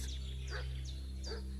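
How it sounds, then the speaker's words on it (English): A dog barks in a video game, a few quiet yips and barks spaced apart over a steady low ambient drone, with no one speaking. "What's that dog making such a fuss about?"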